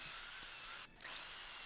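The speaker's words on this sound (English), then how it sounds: "drilling out the other side" A high-pitched, steady whine of a small drill boring holes through a metal bread knife blade, running continuously, briefly dipping near the middle before resuming, quiet and close.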